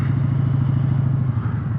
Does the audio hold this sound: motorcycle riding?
yes